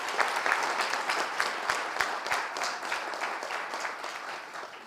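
Audience applause at a French-language high school eloquence contest and debate cup, a sustained burst of many hands clapping with some louder individual claps, gradually tapering near the end.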